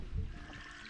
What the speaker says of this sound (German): Der Bach, der hier fließt